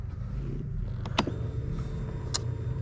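A 2022 CFMoto CForce 600 ATV engine runs steadily at close range, a low continuous rumble throughout with a few brief sharp clicks and ticks over it.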